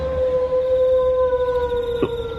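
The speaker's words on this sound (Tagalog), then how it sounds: "Matapos marinig ang nakakatakot na alulong ng aso, bigla akong kinabahan." A dog howls eerily in a long, steady, drawn-out wail, loud and sustained over a rumbling night background, with a faint short noise near the end.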